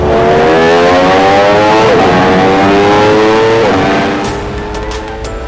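A race car engine revs hard nearby at a cars-and-coffee meet, a loud rising and falling mechanical roar with steady harmonic whine that eases off toward the end, without talk.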